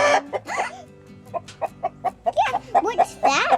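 Backyard chickens cluck in a run of short, close bursts, with children's voices mixed in among the calls.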